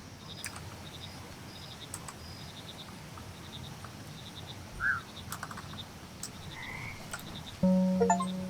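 Frogs croak throughout a marshy scene in the video game Mudborne, a dense, steady chorus with a few louder individual calls near the middle and a sharper burst at the end, with no talk.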